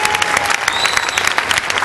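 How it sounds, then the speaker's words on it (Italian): Loud, dense audience applause for Olympic fencer Valentina Vezzali at a fencing gala in Milan, a steady wash of many hands clapping close up that continues without a break. "un applauso extra va a Valentina Vezzali"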